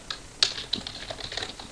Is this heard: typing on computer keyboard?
yes